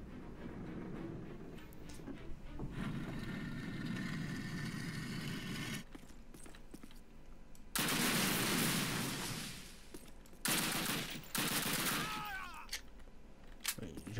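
Call of Duty gameplay with bursts of gunfire and loud blasts breaking through a rumbling battlefield din, several sharp clusters of shots and explosions in the second half amid continuous game noise.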